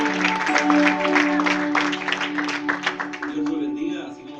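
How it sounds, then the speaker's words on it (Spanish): A church congregation applauding, a dense wash of clapping that swells and then thins out, with music or a sustained tone underneath. "Recibámoslo una vez más con un fuerte aplauso."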